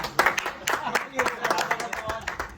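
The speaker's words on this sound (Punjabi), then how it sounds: "ਤਾਲੀਆਂ ਮਾਰ ਦਿਓ" Several sharp claps ring out in a loose rhythm, mixed with voices talking and a bit of crowd noise close by.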